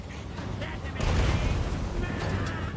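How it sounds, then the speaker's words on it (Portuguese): A gunshot from the fantasy strategy game Total War: Warhammer III rings out in a Skaven battle, a sudden loud blast with a lingering low rumble that follows a stretch of battle noise. "Opa, de onde veio esse tiro?"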